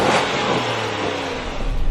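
A Range Rover Sport with a 4.2-litre supercharged V8 revs loudly and steadily close by, its deep rumble holding for about two seconds and swelling again at the end.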